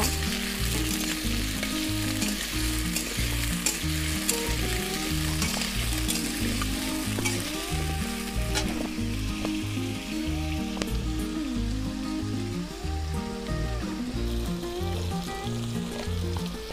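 Jackfruit and shrimp frying in a pan, a dense, loud, continuous sizzle and crackle with soft stirring scrapes mixed in, lasting the whole time without voices.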